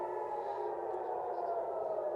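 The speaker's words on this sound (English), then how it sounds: "the sirens are now wailing over Tel Aviv, indicating that another missile is inbound" An air raid siren wails over Tel Aviv in a steady, sustained tone, loud and continuous with no other sounds over it.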